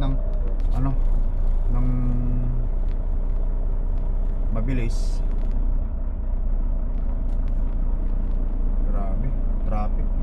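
Steady low road rumble of traffic heard from inside a truck cab near a border crossing, with a few passing vehicle sounds and a brief horn-like tone, while someone talks over it.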